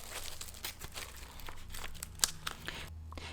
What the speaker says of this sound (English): You know, that really thin paper, and it's kind of got a sound to it, a specific sound.